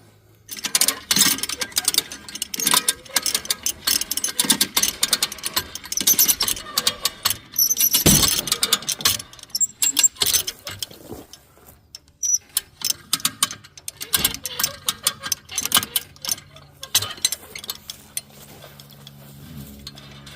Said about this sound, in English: take my come along. I'm just going to hook it to this post of the tractor